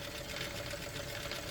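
Several Wilesco model steam engines run together, among them an MF twin, a Vulcan and two SEL engines, making a steady, fairly quiet mechanical whirring and ticking hum throughout.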